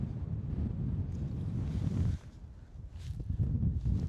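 Strong, chilly wind on the Malvern Hills buffets the microphone with a rough, rumbling roar, dropping off for a moment before gusting back in.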